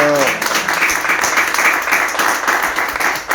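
A church congregation applauds in steady, sustained clapping that fills the room, with a brief voice at the very start.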